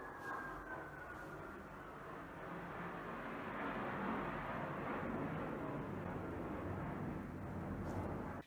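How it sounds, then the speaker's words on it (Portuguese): A passing airplane rumbles overhead outdoors near a park, a broad low roar that slowly swells and stays steady, distant to moderately loud, under faint background sounds. "Ó, o avião passando."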